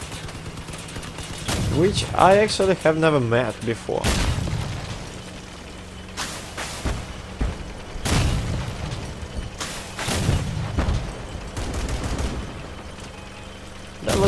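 Bursts of automatic cannon fire from a vehicle in the game Crossout boom in rapid succession, loud and close, while someone talks over the shooting.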